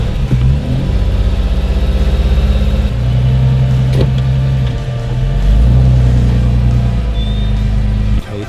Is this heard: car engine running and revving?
yes